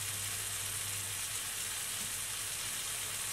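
Steaks sear over high heat in a pan, a soft, steady hiss of sizzling fat that holds evenly throughout with a faint low hum beneath and no voices.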